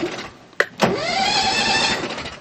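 Small Alterego Tetraprooved vehicle engine cranking with a sharp click and burst, then catching and settling into a loud, steady idle that runs close and alone for a couple of seconds.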